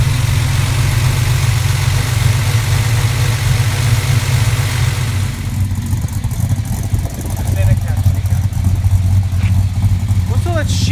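A Chrysler Hemi engine in a Chrysler Valiant VG VIP idles roughly with a heavy, lumpy rumble close by while a person talks over it partway through.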